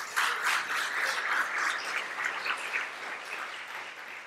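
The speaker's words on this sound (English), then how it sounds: "let's have a round of applause for her" Moderately loud audience applause at a law and policy talk. It forms a dense, even patter of many hands that tapers slightly toward the end.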